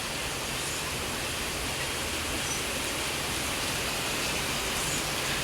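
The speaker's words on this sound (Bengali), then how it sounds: "দেখেন বিকালের টাইমে বাহিরে কি পরিমাণ বৃষ্টি নামছে।" Heavy afternoon rain pours outside, a steady, dense broadband hiss that stays loud and unbroken throughout with no voices over it.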